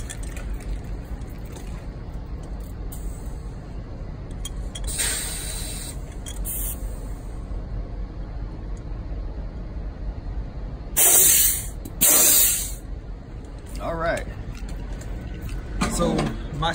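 An air hose hisses in short bursts while inflating a truck tire at a truck stop, with several brief sharp spurts of air over a low idling engine rumble.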